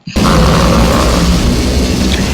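A loud explosion in a Skibidi Toilet animation, a sudden blast that holds as a dense, sustained roar across the whole moment.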